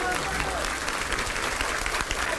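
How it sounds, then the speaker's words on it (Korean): A burst of applause, many hands clapping steadily and fairly loudly for a couple of seconds, with some voices faintly mixed in. "박수를 받으면서 떠나요"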